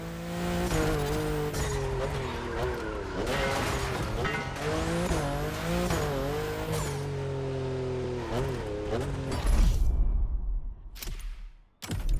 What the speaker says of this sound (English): You'll be driving the only electric Hoonigan car, which is probably the most powerful Gymkhana car, the Audi Hoonitron.